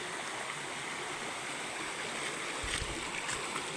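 A stream's water flows over rocks in a steady, faint, continuous rushing wash, with a few low thumps near the end and no speech.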